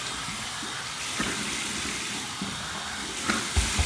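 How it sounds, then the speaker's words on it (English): Warm tap water runs steadily into a sink for a rinse after a safety razor shave, a constant rushing hiss with a few soft splashes near the end. "Here's my warm water rinse to get rid of all the excess slickness."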